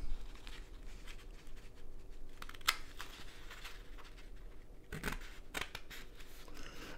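Scissors snip through a paper waistcoat template taped together at the joins, a steady run of close, quiet cuts with faint rustling of the paper between them.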